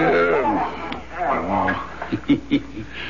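A dog whimpers and yips in an old-time radio mystery drama, with short, high whines and a few soft yelps following a stretch of spoken dialogue, fairly close and moderately loud.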